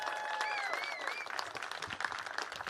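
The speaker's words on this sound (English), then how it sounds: "let's give a round of applause for your continuing and next U.S. Senator, Kelly Loeffler" A crowd at a Georgia campaign event for Senator Kelly Loeffler applauds, a fairly distant, steady patter of clapping with a few whistles and cheers rising over it early on.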